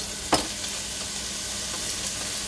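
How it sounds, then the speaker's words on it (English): Minced garlic and ginger sizzle in an oiled pan, a steady bright frying hiss with one early clink of a utensil, no voices. "minced garlic and ginger first, brown a little bit."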